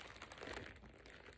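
Stuffing crinkles inside a new leather handbag as it is handled, making a soft, close, continuous rustle with small crackling bursts and no voices.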